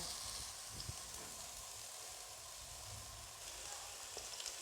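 Finely chopped onions sizzle in cooking oil in a kadai, a faint, steady crackling hiss with occasional small pops, no voices over it.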